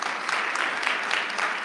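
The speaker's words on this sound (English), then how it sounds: "Another round of applause." Audience applause at a senior expo event, a short steady burst of dense clapping from a room full of people.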